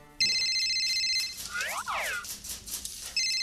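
A bright electronic phone ringtone plays in a Nigerian television advert, a loud melodic warbling ring with rising and falling tones that repeats and continues throughout.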